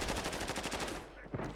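Rapid automatic gunfire in Call of Duty: Warzone, a quick burst of evenly spaced shots lasting about a second before fading.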